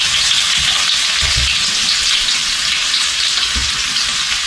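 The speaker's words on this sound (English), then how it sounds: "my onions and my peppers are going to go into my skillet" Sliced onions and peppers fry loudly in a skillet of butter and oil, a dense, constant close-up sizzle with a few soft stirring thumps underneath.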